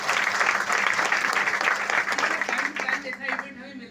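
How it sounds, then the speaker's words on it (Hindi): Dense audience applause fills a business event hall, steady and loud for about three seconds before thinning into scattered claps as it fades. "तो एक बार केशव सर के लिए जोरदार तालियां।"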